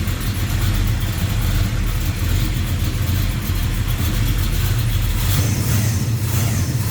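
A 1972 Chevrolet Chevelle Malibu convertible engine with Edelbrock intake manifold, aluminum heads and HEI ignition runs steadily up close, a deep continuous rumble with slight swells in revs and no talking.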